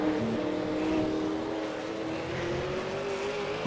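V8 Supercar engine in a racing game at Monza, a loud continuous growl rising gradually in pitch as it accelerates, heard alone without voices.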